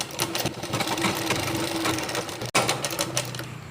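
A sewing machine stitches nightie fabric in a fast, continuous mechanical whir that stops briefly partway through, then resumes running.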